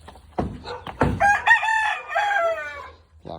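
Close, loud clucking from chickens in a pen opens with sharp calls, then a rooster crows, clear and alone.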